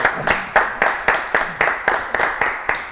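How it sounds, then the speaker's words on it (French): A studio audience claps in a slow, regular rhythm of about ten sharp, loud claps, evenly spaced and without talk. "On les applaudit"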